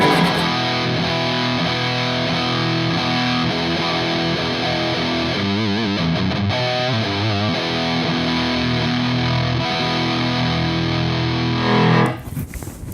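Electric guitar played through a Keeley DarkSide V2 pedal set to its scoop toggle, giving a loud, sustained, heavily distorted tone with chords ringing continuously before cutting off near the end.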